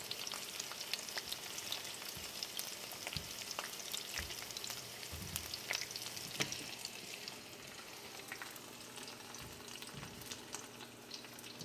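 Eggs sauté in a frying pan with a steady crackling sizzle and scattered pops and spatters, close up and with no voices.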